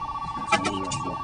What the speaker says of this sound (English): Is the phone?